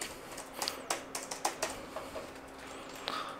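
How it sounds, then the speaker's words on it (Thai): Irregular keystrokes on the Jumper EZpad EB keyboard, a run of separate clicks with uneven gaps, heard close by and fairly quiet with no talking over them. "ตัวคีย์บอร์ดนี้มีความ ตอบสนองที่ค่อนข้างดีนะครับ"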